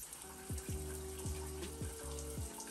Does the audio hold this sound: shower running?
yes